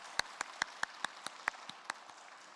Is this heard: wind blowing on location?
no